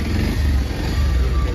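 A Bajaj Pulsar 125 motorcycle with a TP sensor fault starts up, its engine settling into a loud, close, steady low rumble right beside the listener.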